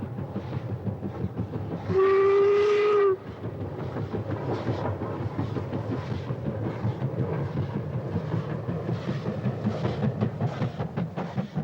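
Steam train on a scenic remote railway line in northwest Scotland, rumbling and clattering steadily throughout, with a clear sustained whistle blast near the start that stands out loud above the running noise.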